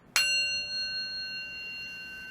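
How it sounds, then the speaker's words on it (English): A single bell struck once, ringing out with a bright, sharp attack and a long, steady metallic tone that decays slowly over two seconds, heard alone and clearly close by. "I forgot to ring my bell, and I like ringing my bell, so I'm going to ring it."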